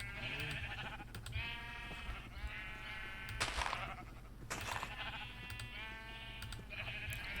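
Several sheep in Minecraft bleat in overlapping, drawn-out calls, one after another over a steady low background hum, with no voices.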